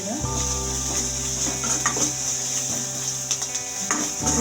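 Chopped onions fry with cinnamon and cloves in hot oil, giving a steady, close sizzle. Light stirring clinks and scrapes come through at intervals.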